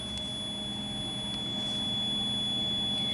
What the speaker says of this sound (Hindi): तो आप सुन सकते हैं ये बजर बजेगा